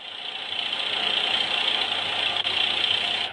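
A car engine in a children's video game hums and idles steadily at a moderate level, with a thin buzzy tone and one brief dip partway through.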